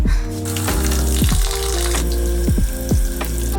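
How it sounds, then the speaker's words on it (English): Water poured onto a money tree plant sitting in a bathtub, a steady splashing trickle with gurgling bubbles and repeated sloshing pulses, close and fairly loud, no talk. "I'm just gonna give it like a little bit of water."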